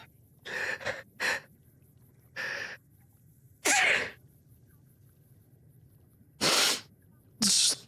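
Several sharp human sneezes and gasping inhales burst out at irregular intervals over a quiet background. A few are loud and close, and others are softer.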